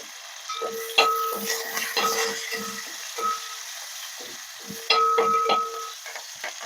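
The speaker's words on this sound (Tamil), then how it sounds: "பூண்டு எல்லாமே சேர்த்து நல்லா வதக்கிக்கிடுவோமா" Fenugreek, mustard seeds, curry leaves, green chilli, ginger and garlic sautéing in hot oil for fish pickle, crackling and sizzling in bursts with a spoon scraping and stirring the pan, close and fairly loud.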